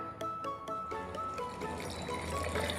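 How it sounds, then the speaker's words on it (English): Water is poured into a blender jar holding finely chopped unpeeled garlic, making a faint, steady trickle and splash with a few light knocks near the start. "We add some water."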